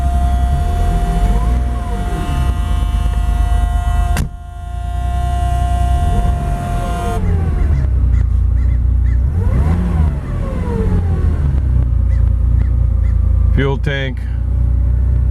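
A 1978 Porsche 911SC 3.0 Targa engine runs loud and close with a steady low rumble and rising and falling revs, while someone speaks briefly over it.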